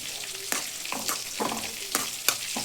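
Onions frying in a pan with salt and turmeric, a continuous close sizzle broken by repeated sharp scrapes of a spoon stirring, about five strokes.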